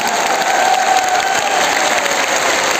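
Audience applause at an RCM business gathering, dense and sustained with many hands clapping at once, steady and loud throughout with no break.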